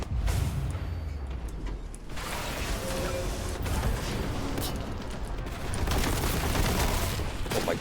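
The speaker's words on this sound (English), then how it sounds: "The perfect time to throw a bunch of explosions my way" Loud, dense rumbling blasts and mechanical clatter from explosions in the Warhammer 40k Boltgun video game, a continuous heavy wash of low booms and crackle throughout with no speech.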